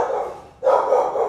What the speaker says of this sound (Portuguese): Peraí, que minha cachorra.